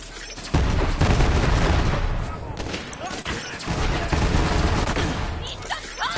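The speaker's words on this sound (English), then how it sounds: "This one just basically shoots grenades like cannons." A grenade-launching submachine gun firing in the video game Borderlands 3: dense bursts of gunfire and booming explosions, loud and close, with a voice talking over the shooting.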